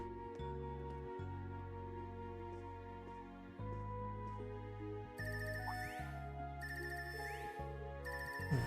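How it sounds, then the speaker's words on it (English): A phone ringtone from the video game Trails of Cold Steel III, a bright repeating melodic chime. It rings in regular bursts over a steady low musical background and stays clear and prominent throughout. "This ringtone, I haven't heard this before."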